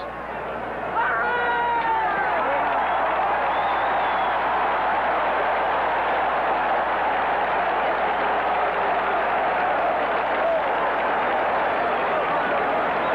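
Dense stadium crowd roar at a 1978 Oakland Raiders versus Green Bay Packers football game, a steady cheering wash that swells after the first second and holds loud throughout, with scattered shouts in the mass.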